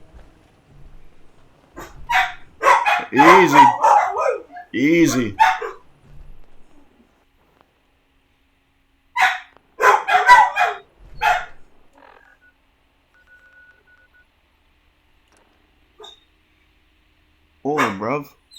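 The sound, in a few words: dogs barking in the video game Fallout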